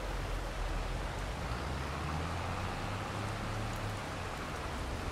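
Steady rain falls on a farm field, a dense, even hiss of drops that holds at the same level throughout with a low rumble beneath and no voices.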